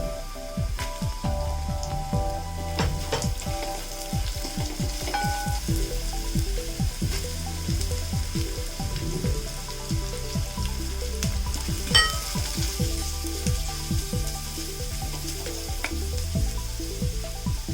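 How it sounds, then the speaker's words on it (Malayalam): Carrots and beans go into a hot pan and are stir-fried for Kerala-style fried rice, giving a steady close sizzle with frequent spatula scrapes and clinks throughout, and no voices. "അപ്പോൾ ഈ സമയത്ത് നമുക്ക് നമ്മുടെ ക്യാരറ്റും ബീൻസും ചേർത്ത് കൊടുക്കാം."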